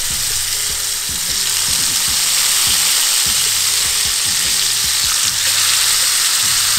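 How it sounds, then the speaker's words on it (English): Chicken pieces sizzle hard in hot oil in a cast iron pan on a high flame, a loud, steady frying hiss with scattered crackles and pops running unbroken throughout. "Let's place the chicken pieces. It should be sizzling hot when you place the chicken pieces."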